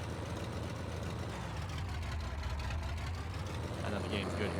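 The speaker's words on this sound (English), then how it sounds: "Wow, loud tractor" A tractor engine in the video game Farming Simulator 22 drones loud and steady at a low pitch, holding the same rough, even hum from start to finish.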